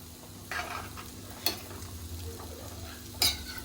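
A spoon stirring small prawn curry with raw mango in a pot, a few soft scraping clinks against the metal under a faint simmer, quiet and close.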